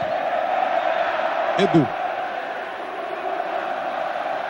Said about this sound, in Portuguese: As duas torcidas resolveram balançar aqui o Morumbi